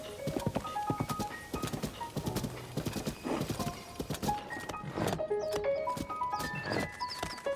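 Horse hooves from the video game Tears of the Kingdom, a quick rhythmic clip-clop at close range with neighs, game music tones and a little talk mixed in.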